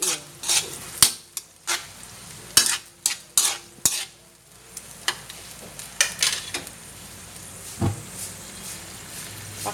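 Escabeche with tomato sauce stirred in a pan, loud repeated scraping and knocking strokes of a utensil against the pan over a low simmering sizzle, close and irregular in rhythm.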